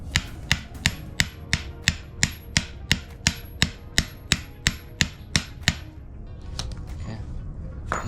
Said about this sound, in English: I'm sure if you have a vise or something to at least hold this while you hammer this down would help